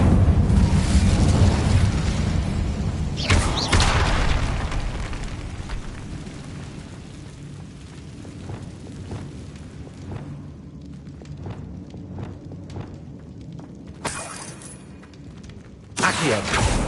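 Fiery spell blasts in Hogwarts Legacy: a loud roaring burst at the start, another sharp blast near four seconds, a quieter rumbling stretch with scattered crackles, then two more sudden bursts near the end.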